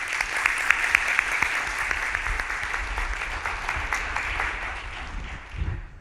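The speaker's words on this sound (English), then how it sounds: "Please give a round of applause for Mayor Andrew Ginther." An audience at a televised city town hall applauds as the mayor of Columbus is introduced; sustained, fairly close clapping with crisp individual claps fills the whole stretch and tapers slightly toward the end.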